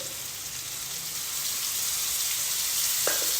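Onion, garlic and a homemade masala sizzle steadily in hot oil as they are sautéed for rajma, a dense, continuous hiss close by with a faint clink near the end and no talking.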